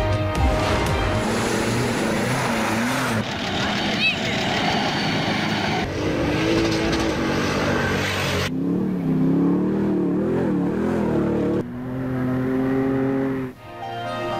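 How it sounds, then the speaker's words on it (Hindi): Stock-category jeeps speed over dusty ground in a rally, their engines roaring and revving across several quick cuts. A narrator talks over the vehicle noise. "जीपरेली में फर्राटे भट्टी धूल उड़ाती गाड़ियों का मुकाबला।"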